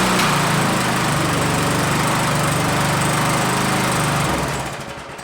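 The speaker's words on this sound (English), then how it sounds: "We've restored our lawnmower to a running state." A small classic Briggs and Stratton four-stroke lawn mower engine, just repaired, runs steadily and loud at close range, then its drone drops off near the end.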